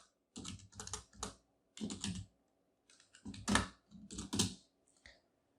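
Code typed on a computer keyboard in close, clicky bursts of keystrokes separated by short pauses, loud and alone.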